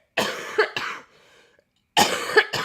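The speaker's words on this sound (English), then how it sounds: "and I'm coughing" Two bursts of harsh coughing from one person, close and loud, separated by a short pause, each burst made of two quick hacks.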